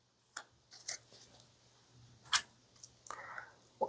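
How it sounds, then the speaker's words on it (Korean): Quiet, sparse tarot card handling: a few sharp papery snaps and clicks, one louder flick, and a soft sliding rustle, close up in a still room. "제가 부자의 그림 카드를 조언점으로 뽑아볼게요."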